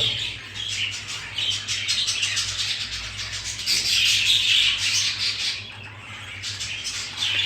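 Albino Japanese finch chicks keep up a busy, high chirping and squawking, close by and steady throughout with only brief dips, over a low constant hum.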